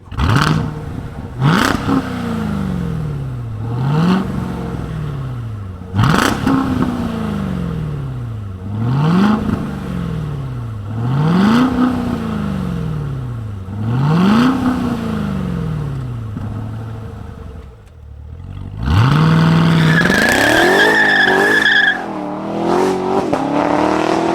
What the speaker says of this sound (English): Let's fire it up and hear the roar of the Z06.